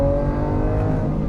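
A Lamborghini engine drones loud and close in a steady, sustained roar, with no voices over it.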